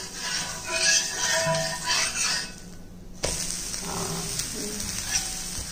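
A corn flour dosa cooked in ghee sizzles on the pan after being flipped, a loud crackling hiss that drops briefly before resuming steadily.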